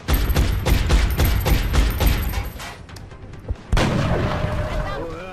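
Heavy gunfire in the tactical game XCOM: Enemy Within, a sniper rifle among the shooters: a dense run of booming shots for nearly three seconds, a lull, then one loud report with a ringing tail.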